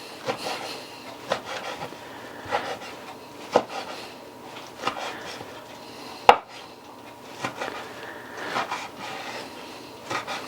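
Knife cutting bacon into pieces on a board while making truck stop chili, heard as a series of separate close chopping knocks and scrapes with a sharp louder chop midway.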